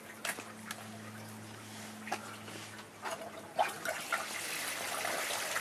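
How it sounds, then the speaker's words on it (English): Water trickles and gurgles steadily through the vessels of a backyard aquaponics system, with a few louder splashes and dribbles breaking up the continuous flow close by. "the system works to the extent that there's water flowing in all the vessels"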